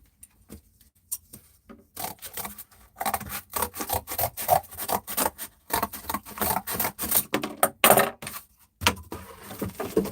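Packing tape rasps and rubs against a cardboard shipping box that has been cut down to size, in a burst of close, irregular pulling, pressing and scraping with short pauses, no talking.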